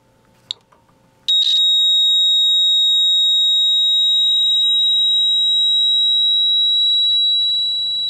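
Piezo buzzer on a sealed lead-acid battery monitor, a loud, piercing continuous high-pitched tone that starts abruptly after a couple of faint clicks and holds steady, fading slightly near the end.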